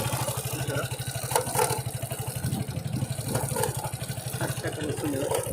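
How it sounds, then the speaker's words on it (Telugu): A Suzuki Gixxer SF motorcycle runs with a dry, unlubricated chain, giving a steady rapid ticking, rattling pulse over the low engine hum, close and continuous throughout. "సో చైన్ మొత్తం డ్రై అయిపోయింది, ఇలా సౌండ్ వస్తుంది."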